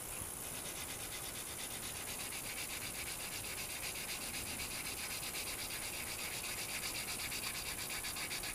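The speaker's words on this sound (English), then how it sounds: "And once that's sanded" A resin model figure is sanded by hand, giving a soft, continuous close rasping rub with a fast, even back-and-forth rhythm, quiet and steady and alone with no voices.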